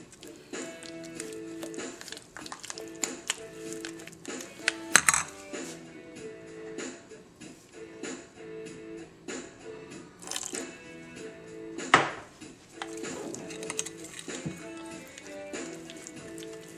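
Henna paste, thinned with a little water, is stirred in a bowl, giving soft repeated scraping and light clinks of the utensil against the container, while a voice talks quietly over it.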